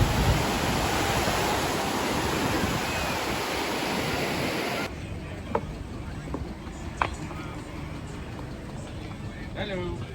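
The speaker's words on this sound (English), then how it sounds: "Damn, it is so packed on this beach." Surf washes steadily onto a packed Wasaga Beach shoreline, a broad hiss that drops away midway, leaving quieter surroundings with a few sharp knocks while people talk nearby.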